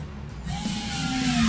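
A Bosch GSR 3.6V cordless screwdriver drives a screw with a brief, rising motor whine that strains as it bites, fairly close with no talk.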